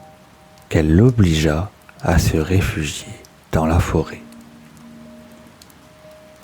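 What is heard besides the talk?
heavy rain falling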